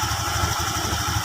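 A Honda Vario 125 scooter idles close by, its engine putting out a steady low, even pulsing chug with no voices.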